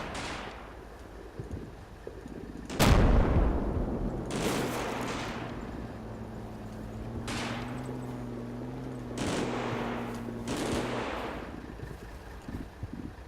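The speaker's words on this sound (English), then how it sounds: "Really lay down some withering fire on that position." Gunfire in the Combat Mission: Battle For Normandy wargame, with a heavy opening blast followed by several sharp bursts and shots spread across the stretch, some distant and some close, over a low engine-like hum.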